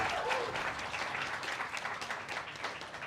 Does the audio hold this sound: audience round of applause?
yes